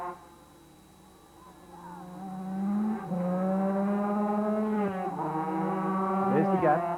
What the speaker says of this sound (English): But Jeffrey Sayle, the man on the Dick Hunter Scholastic 250 Yamaha at the moment, comes down through the S's